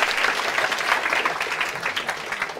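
Loud, dense clapping from a classroom audience during a law lecture, steady and sustained throughout without a break.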